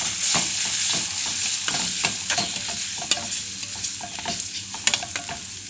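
Potato cubes and tomato frying in a pan while being stirred: a steady hiss and sizzle with repeated scraping and clinking strokes from the spoon, close and fairly loud, no talking.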